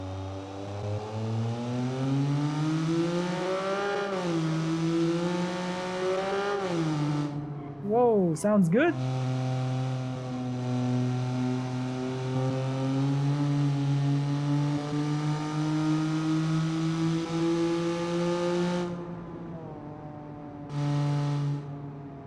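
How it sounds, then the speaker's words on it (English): A loud three-cylinder engine revs up and down repeatedly, its rising and falling tone cut by a sharp burst midway, then holds a steady drone before a brief final blip; someone speaks over it. "3 cylinders are loud engines"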